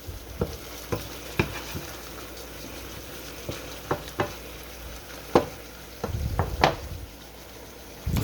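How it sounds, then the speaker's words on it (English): Diced onions in olive oil sizzle in a non-stick skillet for fish fried rice, with a steady fry underneath and repeated sharp scrapes and taps as a utensil stirs them around, some strokes louder and closer. "Just moving them onions around."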